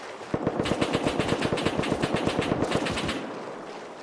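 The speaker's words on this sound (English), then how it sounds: "Just keep suppressing fire, don't waste all your ammo." Rapid, evenly spaced machine gun suppressing fire in the Rust video game during a raid, one long sustained burst of loud, close shots lasting about three seconds before trailing off.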